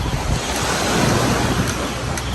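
Sea waves washing near the coast in Hong Kong, a steady broad roar of surf mixed with wind buffeting the microphone, continuous and fairly loud with no talking.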